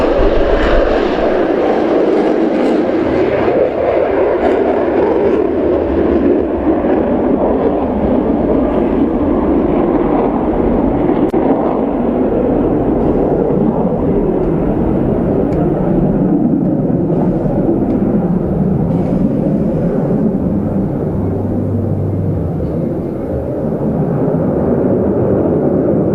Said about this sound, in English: On the roll then, the Eurofighter EF-2000 of the German Luftwaffe.